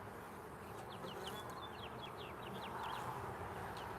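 Honey bees fly out of a nuc hive during an inspection, a faint, constant buzzing hum with birds chirping lightly in the background.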